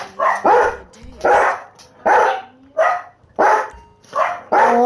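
A dog barks repeatedly in sharp, loud bursts, about seven or eight barks in an uneven rhythm with short gaps, close to the microphone.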